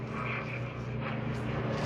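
A steady propeller-plane drone fills the air, continuous and fairly even, as an aircraft passes overhead.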